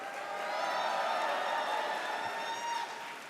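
A large audience at a Faith & Freedom summit in Philadelphia cheers and claps in one steady, moderately loud wash of crowd noise that holds for a few seconds and then eases a little.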